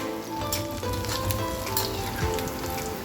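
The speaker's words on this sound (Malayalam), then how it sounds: "ഒന്ന് ഫ്രൈ ആയതിൻ്റെ ശേഷം നമ്മൾ ഒന്നിങ്ങനെ അനക്കി കൊടുത്താൽ മതി." Idli batter snack frying in hot oil, a steady close sizzle with crackles running throughout, alone without speech.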